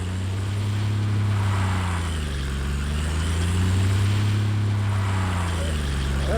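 Mitsubishi Pajero drifting in automatic mode in the mobile game Car Parking Multiplayer: a loud, steady low engine drone whose pitch slowly rises and falls as revs swing, continuous throughout with no talking.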